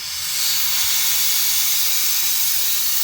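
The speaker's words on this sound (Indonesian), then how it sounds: "Nah ini anginnya sudah saya nyalakan." Compressed air blowing steadily into a single-door refrigerator evaporator during leak checking, a loud continuous broadband hiss lasting throughout with no talk.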